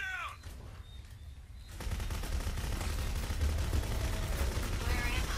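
Dense, continuous gunfire from the video game Clive Barker's Jericho, a loud crackling barrage that kicks in after a quieter opening and keeps going without a break, with faint voices mixed underneath.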